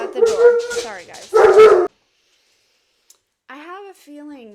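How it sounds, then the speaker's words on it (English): A dog barks in a few sharp bursts close by, then falls silent, followed by a short whimpering yelp. "So I'm so sorry about his barking."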